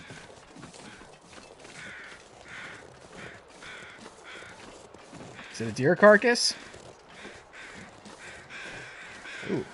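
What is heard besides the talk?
crows cawing over a carcass in the video game The Long Dark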